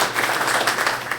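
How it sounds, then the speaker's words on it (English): A brief burst of group clapping at a holiday party for an amateur radio club, a short, fairly dense round of applause from a modest crowd that fades quickly. "you guys deserve a round of applause for leading these events"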